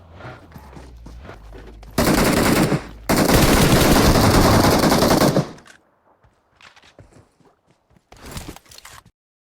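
Rapid bursts of automatic gunfire from a multiplayer shooter game, two long loud volleys followed by scattered quieter shots and footsteps, with no talk over them.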